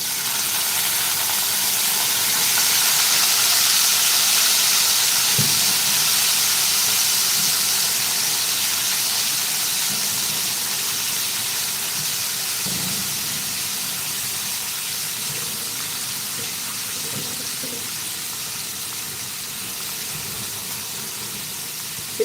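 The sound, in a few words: washed vegetables sautéing in hot oil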